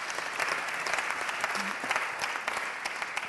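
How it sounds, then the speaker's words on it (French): A conference audience applauds steadily throughout, dense clapping at a moderate distance with faint crowd murmur underneath. "Ces applaudissements pour les 3"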